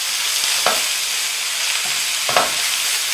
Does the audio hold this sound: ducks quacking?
no